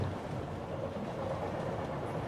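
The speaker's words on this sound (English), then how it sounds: "The sound of the tracks now hypnotically sending you to sleep." A train runs along the tracks at night, heard from inside a carriage as a steady, soft, low rumble with a continuous hiss and no voices.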